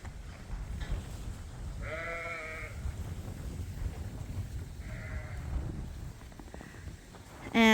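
Lambs on a sheep farm give two clear bleats a few seconds apart over a quiet wintry outdoor background, moderately near.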